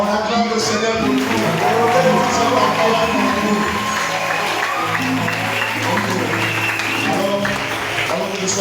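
A church congregation applauds and cheers in acclaim, a dense, lively wash of clapping and voices mixed with music and singing throughout.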